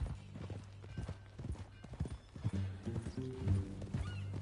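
Horse hooves clip-clopping in Red Dead Redemption 2, a quick uneven trot of close hoofbeats mixed with snorts and a short whinny, no talk.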